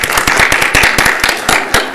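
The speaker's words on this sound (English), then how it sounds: "Everybody clap for Greg." A small crowd at a public redistricting hearing in Yuma claps for a few seconds, a brisk, fairly loud patter of hands with no talking.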